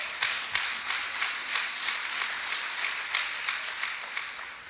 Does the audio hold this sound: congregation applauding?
yes